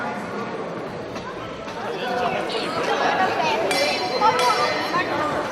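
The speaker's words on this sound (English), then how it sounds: "The bell sounds and we are ready for action." A wrestling ring bell at an Irish Whip Wrestling show rings sharply a couple of times, ringing on above a steady roar of crowd chatter and cheering in the arena.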